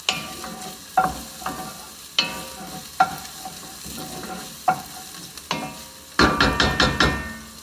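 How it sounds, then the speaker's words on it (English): Onions for Peruvian beef seco cook down in a pan over a low sizzle. A spoon knocks and scrapes against the pot at intervals, and a quick burst of clinking stirs comes near the end. No one talks. "please cook your onions. They need to be nice caramelized"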